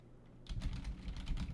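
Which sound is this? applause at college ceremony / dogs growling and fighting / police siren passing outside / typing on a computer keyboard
typing on a computer keyboard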